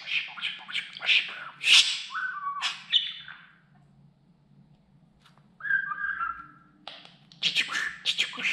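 A pet budgerigar chirps and whistles in quick bright bursts, close and fairly loud, with a quiet stretch midway before the rapid chatter resumes.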